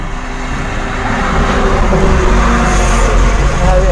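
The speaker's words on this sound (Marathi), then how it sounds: "हे बघ, हे अशा मोठ्या मोठ्या गाड्या येतात ना." Large vehicles passing on a road: loud, continuous traffic roar that swells slightly as a heavy vehicle goes by close to the listener, with a voice faintly under it.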